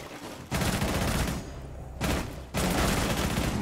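Gunfire in a first-person shooter video game: two bursts of rapid automatic shots, loud and close, separated by a short pause.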